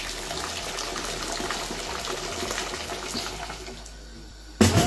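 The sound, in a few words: washing rice in water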